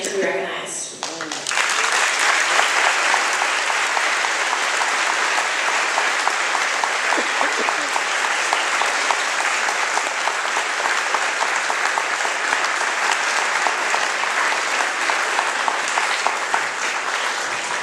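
Sustained round of audience applause for a guest speaker at a ceremony, dense and steady clapping from a large crowd after a brief opening, continuing evenly without a break.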